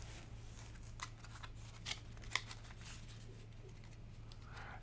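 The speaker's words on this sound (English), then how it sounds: "Then deal back and forth starting with the right hand, and it'll also end with the right hand" Playing cards are dealt back and forth between two hands, giving soft quick flicks and snaps at close range, a few sharper clicks in a quiet room with no speech.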